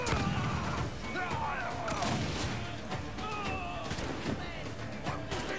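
Repeated heavy ship cannon blasts boom in Assassin's Creed 4: Black Flag, with crashing impacts and chaotic background noise, several shots in quick succession.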